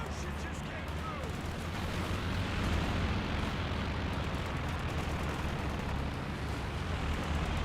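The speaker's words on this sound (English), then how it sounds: "Calliope rocket barrage nailing the Kenna Warfare." A Calliope rocket barrage pounding a position in Company of Heroes 2, heard as a dense, unbroken roar of overlapping blasts and rumble that holds at a steady, moderate level throughout.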